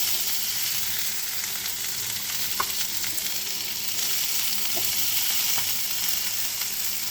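Potatoes with ginger and garlic fry in oil for potato chops, giving a steady, close sizzling hiss throughout with a few faint clicks and no talking.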